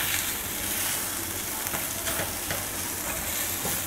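Green chilies and coriander being stirred into chicken cooking in a pan, a continuous frying sizzle with intermittent scraping of the spatula, close and steady throughout.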